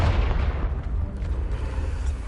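A Confringo blasting spell explodes in Hogwarts Legacy, a heavy booming blast with a deep rumbling tail that fills the whole moment, loud and close.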